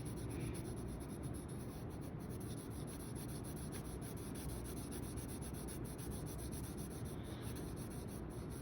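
A colored pencil shades a layer of brown onto paper in a steady, close, continuous scratchy rubbing, with back-and-forth strokes running throughout.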